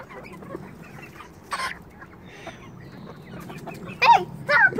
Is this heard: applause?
no